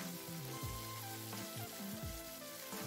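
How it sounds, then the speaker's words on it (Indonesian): Spices sizzle as they sauté in a pan with bruised galangal, lemongrass, bay leaves and whole red bird's-eye chilies, a steady frying hiss under background music with no talking. "Sekarang kita tumis bumbunya sampai harum."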